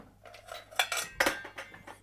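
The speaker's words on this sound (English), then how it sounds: "It's just one of my standard lids for my pans, but it happens to fit this perfectly" A metal pan lid set over a bowl of rye bread dough, with a few close clinks and clatters as it is placed and adjusted.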